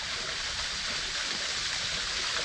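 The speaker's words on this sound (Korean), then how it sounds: "폭포수가 있네. 인공 폭포예요. 진짜 폭포는 아니고." Water pours steadily down an artificial waterfall, a dense unbroken rush of splashing that stays loud and even throughout, with no voices.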